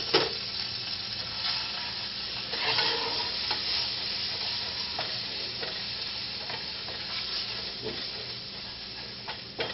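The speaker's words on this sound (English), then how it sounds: "Brown this flour up a little bit." Flour browns in a little oil in a pan as the base for a Loco Moco hamburger steak gravy: a steady, soft sizzling hiss with occasional scraping stirs, continuous and fairly quiet.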